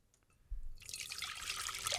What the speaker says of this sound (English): I love that pouring sound.